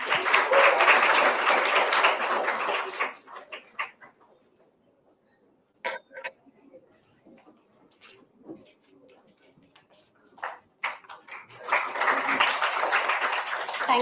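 Audience applause at the Accendo 2022 event, a dense, loud burst of clapping at the start that fades into a quieter gap with scattered sounds, then swells again into full applause at the end.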